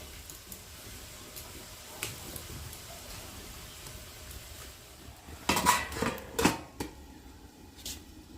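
A metal lid is set down on a pot of young cabbage cooking on a village kitchen stove, giving a few sharp clanks and rattles midway through over a quiet background.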